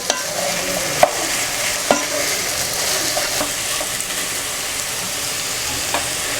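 Vegetables with celery being mixed with salt in a hot pan for Indo-Chinese American chopsuey, loud steady sizzling broken by a few sharp clacks of the spatula against the pan.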